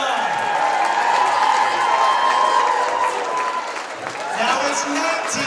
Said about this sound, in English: Keep cheering on.